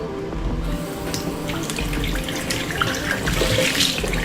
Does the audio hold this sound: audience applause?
no